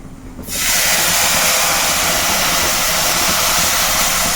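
Tamarind water poured into a hot pan for a sardine curry, breaking into a sudden loud, sustained sizzling hiss about half a second in that holds steadily to the end.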